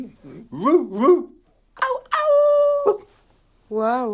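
A woman imitates a dog with her voice, giving short yelping barks and a drawn-out howl, close and loud, separated by brief silences.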